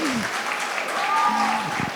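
Audience applause and cheering at a public defenders' congress thesis competition, a steady wash of clapping with voices talking over it.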